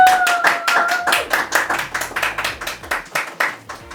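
Audience claps to vote in a mock courtroom game show, with distinct, rhythmic hand claps in a steady beat, a faint whistle early on, and the clapping thinning toward the end.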